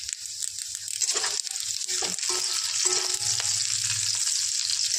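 Bay leaf, dried and green chillies, five-spice and whole cumin tempering in hot oil, a bright steady sizzle with occasional soft clinks of a spoon stirring close by.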